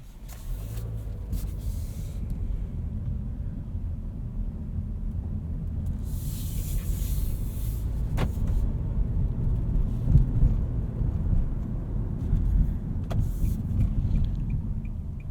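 A 2022 Nissan Kicks SR on the road, heard from inside the cabin as a steady low rumble of engine and road noise that holds at an even level throughout, with a few brief thumps and rattles and no talking.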